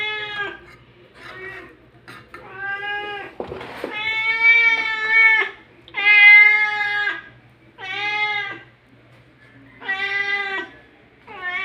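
A pet cat named Mimi meows repeatedly for food, about eight loud, drawn-out, pleading meows with short pauses between them, close to the listener.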